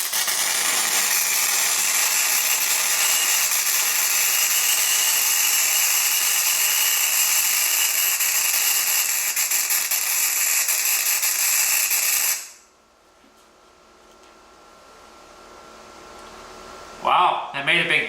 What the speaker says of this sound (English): I'm going to weld some more and then we'll take a look at it.